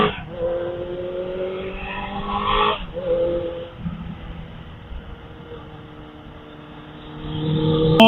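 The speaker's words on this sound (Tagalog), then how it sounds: "Nabangga ng truck yung kotse." A car skids as a truck crashes into it, loud engine roar and tire noise swelling, cutting off abruptly, then a lower rumble building back up, heard close with no talking.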